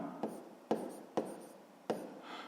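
A pen writes numbers on paper during a sixth-grade maths exercise, giving four sharp taps with soft scratching strokes between them, close and quiet.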